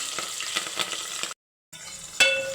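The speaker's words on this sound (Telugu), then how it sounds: "ఆవాలు జీలకర్ర అవి కాస్త వేగాక ఉల్లిపాయలు వేసుకోవాలి" Mustard seeds and cumin crackle in hot oil with onions, a close sizzle dotted with sharp pops, broken by a brief silent gap before frying resumes with a louder spatter.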